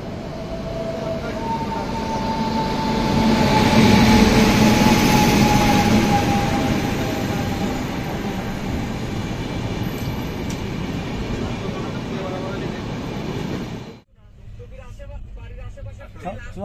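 The SMVT Bengaluru - Kamakhya AC Super Fast Express standing at a station, with a broad steady rumble of the train and platform noise swelling and easing throughout, cut off abruptly near the end.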